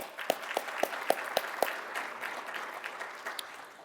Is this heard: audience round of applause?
yes